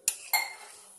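Two sharp metallic clinks of a utensil against a pot of vegetables, close by, followed by a faint scraping stir fading out.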